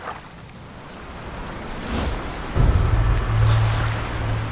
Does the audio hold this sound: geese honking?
no